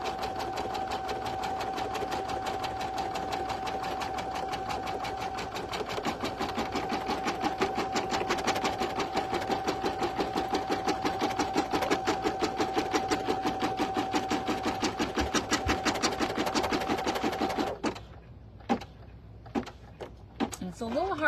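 An embroidery machine runs placement stitches on brown fabric, a fast steady needle rattle with an even whine, then stops and gives way to a few scattered clicks and handling knocks.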